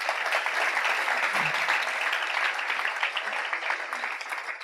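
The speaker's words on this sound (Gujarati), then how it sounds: "ધન્યવાદ, તાળીથી વધાવો." An audience claps during a spiritual discourse at a Swaminarayan gathering, sustained, even applause of many hands heard from a little distance, moderately loud and unbroken.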